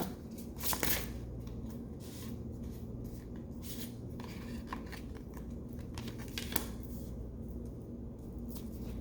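Tarot cards being shuffled give quiet papery riffles and slides in short bursts, close and soft, with no talk over them.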